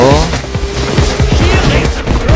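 Rapid gunfire from a sniper shootout in the heist game Payday 2, with a dense run of sharp shots and booms over steady game noise and background music.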